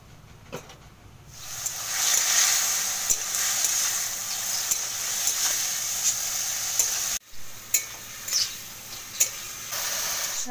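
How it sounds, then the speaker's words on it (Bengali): Steady, bright sizzling from food frying in a pan in a village home kitchen, a continuous hiss with scattered sharp crackles and pops, briefly dipping near the end before resuming. "এবার ভাজাটা বসিয়েছি"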